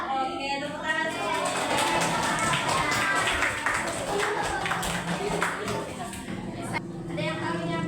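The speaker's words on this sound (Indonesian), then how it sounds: "Oke, tepuk tangan dulu." Schoolchildren in a classroom clap their hands together in quick, rhythmic patterns, close and fairly loud, while a teacher and the children keep talking over the clapping.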